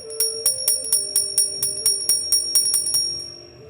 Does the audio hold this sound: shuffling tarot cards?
no